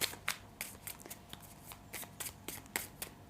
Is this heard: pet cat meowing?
no